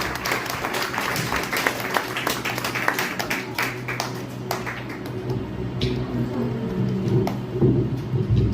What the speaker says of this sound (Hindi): मैं चाहता हूँ ताली बजाते हुए वेलकम करें।